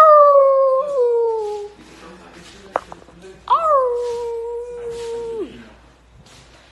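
A person imitates a dog howling: two drawn-out, wavering wails that fall in pitch, separated by a short pause with faint clicks.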